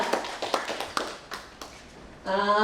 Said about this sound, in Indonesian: Oke, beri aplaus sekali lagi untuk Bu Sri Wedani ya